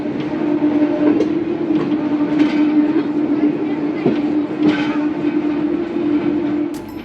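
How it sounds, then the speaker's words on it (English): Steady rumble of a historic steam tram rolling along rails in the Netherlands, with occasional rhythmic clacks from the wheels crossing joints, heard from on board. "With that lovely sound of the tracks"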